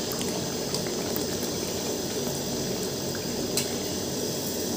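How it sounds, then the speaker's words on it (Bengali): Small batches of phuluri batter fritters sizzle in hot oil, a steady dense crackle and bubbling held close and even throughout, with no talk. "এরকম করে একটা একটা করে ধরো ভেজে নিচ্ছি।"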